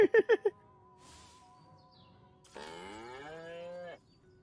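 Cattle mooing in Destroy All Humans!: a quick burst of four short grunting notes opens, then a long, loud drawn-out moo rises and falls, ringing alone with faint background tones between.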